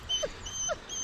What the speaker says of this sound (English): we've got a dog coming along, a nice retriever